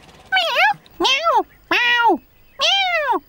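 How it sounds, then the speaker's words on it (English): A cartoon cat meows four times in a row, loud and close, each call a clear rising-then-falling cry with short gaps between them and no other sound around. "Meow! Meow! Meow!"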